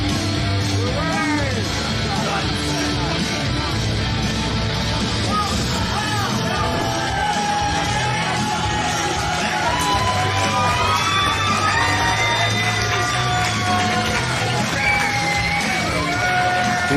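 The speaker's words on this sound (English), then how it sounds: "This crowd showing their appreciation for the deathmatch legend" A crowd at a deathmatch wrestling show cheers, yells and whoops continuously, with shrill individual shouts rising over a dense roar of voices.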